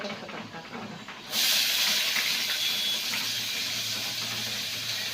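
Tomatoes drop into a hot pan of roasted garlic and set off a sudden loud hiss that holds steady for several seconds after a quieter start, close by with no talking.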